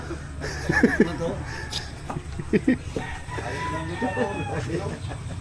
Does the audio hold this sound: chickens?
yes